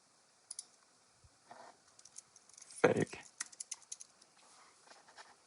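Keys clatter on a computer keyboard in a short, quiet, uneven burst of clicks, with one louder knock in the middle and scattered taps afterward.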